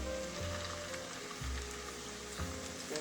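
Meatballs browning in a hot frying pan, giving off a steady close sizzle with a few soft low bumps as they shift in the pan.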